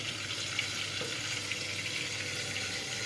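Garlic, shallots and tomato frying in plenty of oil give a dense, steady crackling sizzle throughout, close and fairly loud, with faint stirring.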